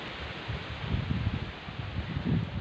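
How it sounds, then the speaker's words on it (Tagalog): Strong gusty wind buffets the microphone with a low, uneven rumble and some rustling, rising and falling over a few seconds. "Ang lakas-lakas ng hangin."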